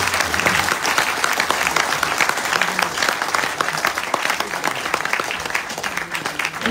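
A large crowd at a Ghanaian NPP political campaign event breaks into loud, dense applause that holds steady throughout, with cheering voices mixed into the clapping.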